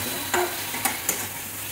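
A spoon stirs spices, including Kashmiri chili, sautéing in oil in a home kitchen pan, with a steady soft sizzle and a few brief scraping strokes. It sounds fairly quiet and close, with no voices.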